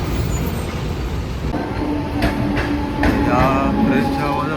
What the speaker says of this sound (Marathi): बाजूने जेव्हा गाड्या बिड्या जातात